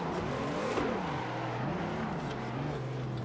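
Race car engine in the Assetto Corsa sim during a slow standing start with a clutch kick, a steady droning rev that rises and dips in pitch, close and continuous.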